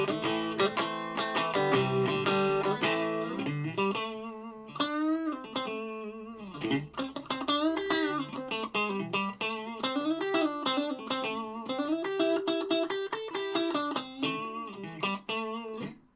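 Ibanez RG140 electric guitar played through a Laney HCM30R amp at low volume, clean with no pedals engaged, a continuous run of sustained chords and melodic lines ringing out alone.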